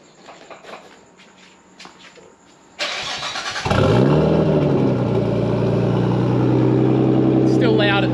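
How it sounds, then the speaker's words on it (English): A few soft footsteps and rustles, then a Nissan Skyline's engine cranks and fires up, settling into a loud, rumbling exhaust idle close by. "Do you want to give her a quick fire so we can hear your exhaust?"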